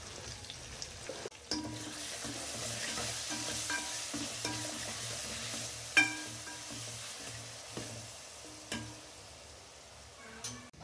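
Vegetables with turmeric frying in a pan for sambar give a soft, steady sizzle punctuated by occasional scrapes and taps of the spatula, close but quiet, no voices.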